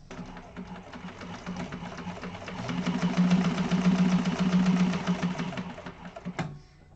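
A sewing machine bastes the short side of a fabric organizer bag in a quick, buzzing run of stitches that speeds up and grows louder midway, then stops abruptly with a clunk near the end.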